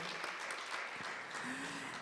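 Brief, soft applause from the audience at an AI ethics panel forum as a final panelist is introduced, an even patter of hands lasting about two seconds.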